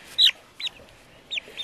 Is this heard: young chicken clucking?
yes